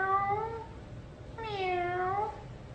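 A child imitates a cat with two drawn-out meows, the first fading and the second rising then falling, clear and close with a brief pause between them.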